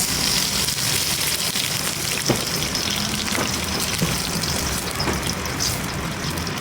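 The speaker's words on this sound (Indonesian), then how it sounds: "Tumis dulu sebentar ya, Langsung kita masukkan minyak" Chilies sautéing in oil in a wok for chili oil, giving a steady, dense sizzle and crackle that carries at an even loudness, with a few brief clicks and taps over it.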